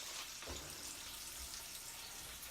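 Bacon fries in a pan with a soft, steady sizzle, faint and distant, with a few brief clatters and no talking.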